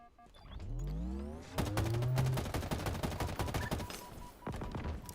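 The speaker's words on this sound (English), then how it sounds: "I was firing at him fully auto from a distance" Sustained automatic assault rifle fire in a video game, rapid loud bursts rattling continuously at close range after a brief swell of game sound, with no speech.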